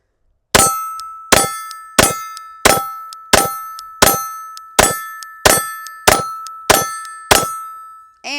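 Eleven sharp, evenly spaced gunshots from a Glock 19 Gen 5 pistol, each a loud metallic crack with a ringing tail, fired in a steady rhythm about once every 0.7 seconds.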